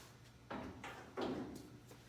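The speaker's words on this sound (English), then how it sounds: "then that door panel just slides right off" A door panel on a 1972 Chevy Highlander pulled free and slid off the door, giving two or three close scraping, rustling bursts with short gaps between them, without speech.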